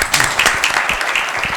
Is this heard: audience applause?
yes